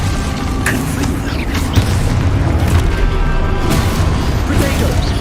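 Confringo blasting spell going off in the Hogwarts Legacy video game, a dense stream of loud booming blasts and crashing impacts over a rumbling game soundtrack, near and continuous.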